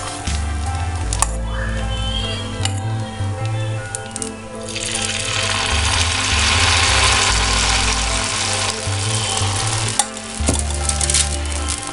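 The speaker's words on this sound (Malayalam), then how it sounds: "ഒരു തവി മാവ് നമ്മൾ കല്ലിലോട്ട് ഒഴിക്കുക" Batter for Kerala vellayappam poured onto a hot stone griddle gives a steady, loud sizzle that swells midway and holds, with a few clinks of a ladle and low background hum.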